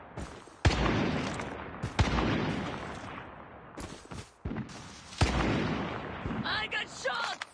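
Several separate gunshots sound in a battle royale mobile shooter, with dual mythic Fennec submachine guns in use. The shots come as loud bursts spaced a second or more apart, and talk can be heard near the end.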